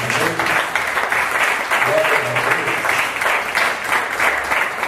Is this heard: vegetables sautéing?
no